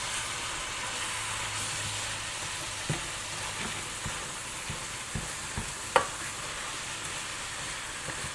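Taco sisig frying in a pan gives a steady broadband sizzle throughout, with several sharp scraping clicks as it is stirred, the loudest near the end.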